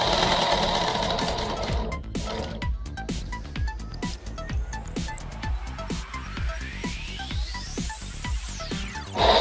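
A sewing machine stitches a petticoat in a steady, rhythmic run of close mechanical clicks and whirring, with a rising motor whine toward the end before stopping.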